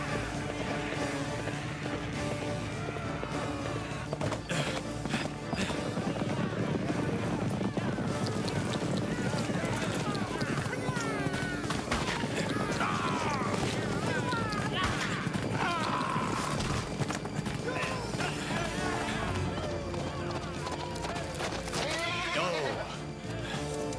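Horses neigh and hooves pound in an animated cartoon chase, a dense, noisy scene with shouting voices mixed into the steady commotion.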